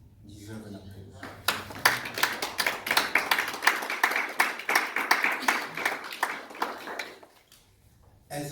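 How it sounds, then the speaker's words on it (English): An audience claps in response at a sponsorship announcement for Ghana football, a brief burst of scattered hand claps that starts up, swells into steady applause for several seconds, then fades out. "I think what I've just said deserves an applause"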